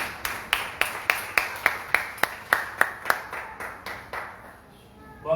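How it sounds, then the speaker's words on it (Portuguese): A church congregation claps for Jesus at a worship service, about a dozen sharp, evenly spaced claps in a steady rhythm that fade toward the end. No one speaks. "uma salva de palmas para Jesus"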